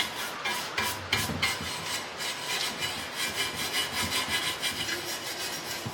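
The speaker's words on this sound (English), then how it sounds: "we're still out here cleaning aluminum frames by hand" An aluminum dirt bike frame is scrubbed clean by hand, giving a rhythmic, close scratchy rubbing with quick back-and-forth strokes and no voices.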